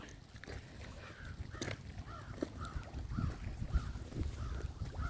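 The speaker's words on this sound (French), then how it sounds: "Les corneilles me suivent partout en passant." Crows give a series of repeated caws at a moderate distance over a soft background of wind and outdoor rustle.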